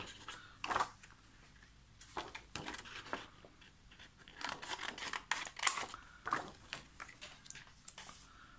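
Scissors snip through a plastic rhodoid sheet for a scrapbooking project, a series of short crisp close cuts and crinkles with quiet pauses between them.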